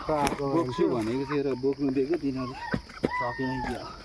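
A rooster crows loudly and close by at a village puja gathering, one long drawn-out call followed by shorter, broken calls, set against faint background noise.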